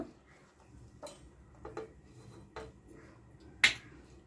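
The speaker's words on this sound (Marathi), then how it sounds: "हे सर्व मिक्सरच्या भांड्यामध्ये टाकून घेऊ" Coriander, green chillies, ginger, coconut and curry leaves drop into a mixer jar one after another, a handful of sharp clinks and taps spaced irregularly in an otherwise quiet room.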